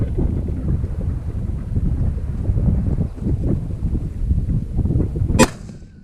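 Strong wind buffets the microphone at an outdoor rifle range, a steady low roar throughout, broken near the end by a single sharp, loud rifle shot from a 30 Nosler.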